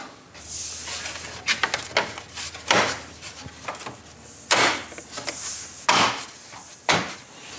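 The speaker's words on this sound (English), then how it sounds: "Now line up those clips into their holes and push it in." Plastic headlight clips on a Toyota FJ Cruiser being pressed into their mounting holes during an LED headlight install, giving a series of sharp, close clicks and knocks spaced irregularly over a low steady hum, with no talking.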